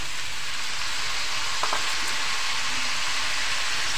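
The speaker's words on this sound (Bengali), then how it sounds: "এই যে ক্যাপসিকামটা কেটে রেখেছিলাম এটা দিয়ে দেব।" Chopped capsicum frying in a pan, a dense hiss that holds steady and close throughout, with one faint clink partway through and no voices.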